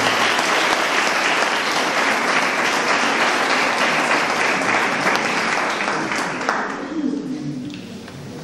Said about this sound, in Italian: Un altro applauso per Alissa e Angelica.